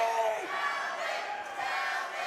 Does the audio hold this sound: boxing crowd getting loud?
yes